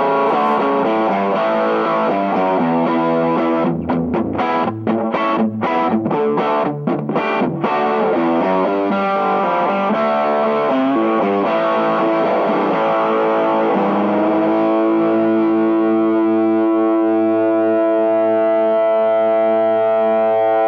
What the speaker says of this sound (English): I turned up the volume all the way, pulled the tone back, and I totally turned off the cut, and it gets a very cool plexi sound